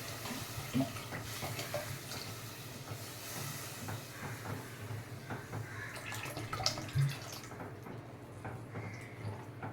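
Water is poured into a pan of home-made seer fish (neymeen) curry on a lowered flame, a soft hissing splash and steamy sizzle continuing for several seconds with a few small clinks, with no talking.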